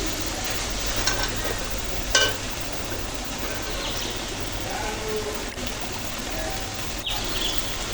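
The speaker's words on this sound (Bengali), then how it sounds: "তো আবার নেড়ে ছেড়ে দিচ্ছি" Food fries in a pan while it is stirred, a steady close sizzle with a few soft scraping knocks, continuous and fairly loud throughout.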